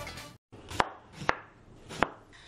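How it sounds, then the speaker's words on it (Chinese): Fresh radish being chopped into chunks on a cutting board, three sharp, separate knife strikes spaced about half a second apart, close and clear against a quiet background. "新鲜萝卜切块"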